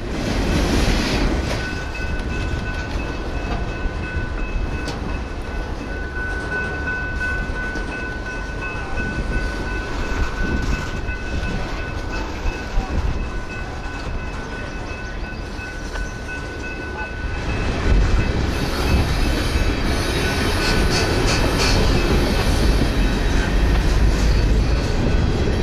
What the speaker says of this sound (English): Norfolk Southern and BNSF units lead train 253 into